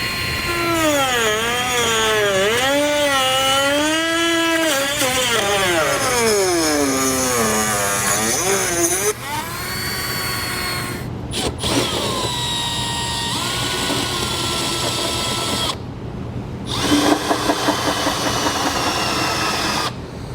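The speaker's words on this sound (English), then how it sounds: "With the rotary tool, I'm going to cut this corner off right here first" A rotary tool cuts off a corner during a trailer hitch receiver install on a 2018 Chevrolet Volt, giving a loud, close, continuous high whine that wavers in pitch, then turns rougher and grinding for about twenty seconds.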